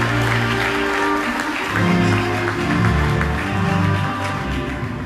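A crowd applauds at the closing ceremony of a tribute music festival, steady and loud clapping filling the space throughout without a break.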